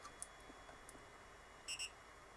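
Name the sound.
3D printer double beep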